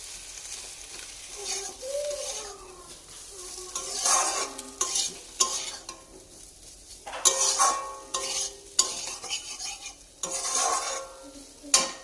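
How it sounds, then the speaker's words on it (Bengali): Green chillies crack and sizzle in hot oil while frying for a Bangal-style puti fish curry, with bursts of crackling and spatter mixed with stirring across the clip and no voices. "লঙ্কাগুলো একটু ফাটিয়ে দেবো"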